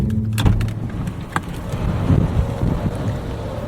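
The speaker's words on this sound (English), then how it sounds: "You're going to hear that wind." Steady wind buffeting a microphone near a row of mailboxes in Last Chance, Colorado, a continuous low rumble with gusty swells and a few faint knocks, no voices.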